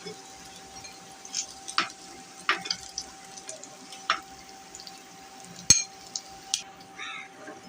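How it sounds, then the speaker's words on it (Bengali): Shing catfish frying in hot oil, a low steady sizzle broken by sharp clinks and scrapes of a utensil against the pan, with a few louder knocks and light clatter at close range. "হয়ে গেছে আমার শিং মাছ ভাজা"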